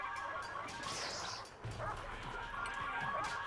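A guard dog in the prison management game Prison Architect barks a few times during a canteen riot, sharp yelps over game noise and a faint clatter, fairly quiet and mixed with other in-game sounds.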